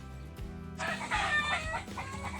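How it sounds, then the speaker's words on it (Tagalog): Chickens cluck and squawk in a burst of agitated noise, with a rooster-like call rising over the flurry, fairly close and loud, on a Philippine shore during night spearfishing. "Nabulabog ng mga manok dito."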